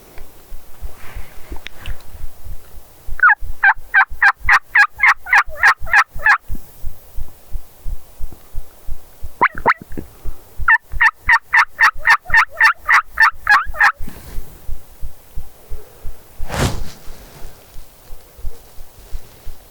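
Loud rapid gobbling bursts from wild turkeys at dawn, two long rattling runs plus a short one, over a steady throbbing pulse, with a sharp thump near the end.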